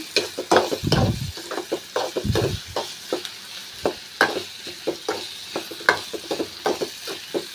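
Prawns fry in a pan with ginger paste as a spoon stirs them, giving repeated close scraping strokes over a steady sizzle.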